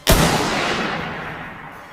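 An AWM bolt-action sniper rifle fires a single loud, sharp shot that booms and then rolls away in a long fading echo.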